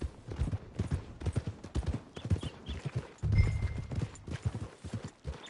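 In the video game Red Dead Redemption 2, horse hooves clip-clop in a steady rhythmic gait, moderately close, with a brief snort or whinny partway through.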